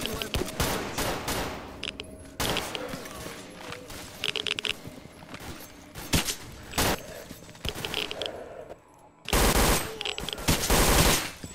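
Rapid bursts of gunfire blast at bears in S.T.A.L.K.E.R.: Call of Pripyat with the Misery mod, loud and irregular with short pauses, ending in a dense closing burst amid game noise.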